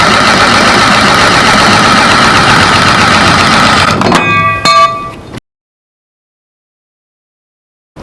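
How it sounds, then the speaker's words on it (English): Sawzall reciprocating saw cutting into the bed rail of a Ford F-250 pickup, a loud continuous buzzing drone for about four seconds, then a few metallic clanks before it stops and falls silent. "I'm going to use the Sawzall."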